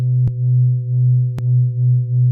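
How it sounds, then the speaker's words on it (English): A steady low synth drone from the Line Hum iPad app hums with a slow, regular beating pulse, punctuated by two brief sharp clicks. "So now we're getting that sort of beating oscillator thing."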